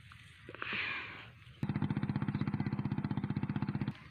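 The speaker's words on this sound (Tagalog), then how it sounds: "Sasakay na po natin sa motor ang ating mga sitaw." A small motorcycle engine starts up after a brief scrape and idles with a fast, steady putter, loud and close, until it cuts off near the end.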